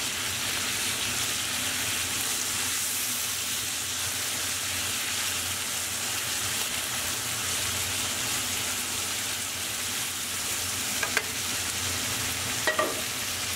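Persian pan kebabs sizzling steadily in a pan, a loud continuous frying hiss, with a couple of faint scrapes near the end as they are flipped with a spatula and tongs.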